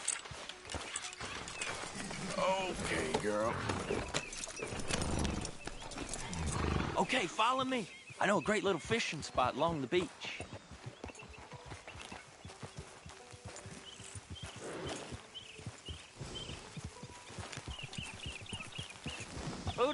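Horse hooves clip-clop in Red Dead Redemption 2 as riders set off along a beach, a steady rhythmic trot under ongoing spoken dialogue, with a brief whinny and outdoor ambience.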